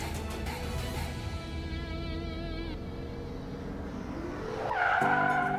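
Car tires skid and squeal loudly as the car pulls up to park, a sustained screech over engine rumble that swells near the end, with no talk.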